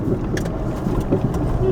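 Motorized tricycle engine droning steadily along a highway, a constant low rumble of road and motor noise with faint voices under it.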